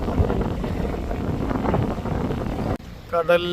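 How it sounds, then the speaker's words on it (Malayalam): Strong wind at the seashore buffets the microphone with a steady low roar, then cuts out briefly before a voice speaks near the end. "പിന്നെ നല്ല കാറ്റുണ്ട് അതാണ് കടലിൻ്റെ അവസ്ഥ"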